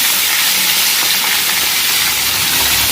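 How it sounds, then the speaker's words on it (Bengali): Rohu fish head frying in hot oil, a loud, continuous bright hiss and sizzle that stays steady from start to finish with no talking. "গরম মাছের কাতলা মাছের মাথা ভালো করে ভেজে নিতে হবে"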